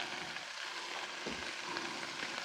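Gravy seasoned with salt and pepper sizzles softly in a skillet, a faint, steady crackle close by with no one talking.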